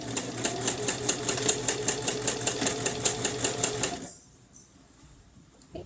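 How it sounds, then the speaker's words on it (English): A sewing machine runs a zigzag stitch, joining fold-over elastic to mesh fabric on a lunch box project: a steady, close, fast rhythmic chatter of needle strokes for about four seconds, then it stops, leaving near silence. "make sure that you catch all of your mesh in your fold over elastic and when you're doing your zigzag stitch"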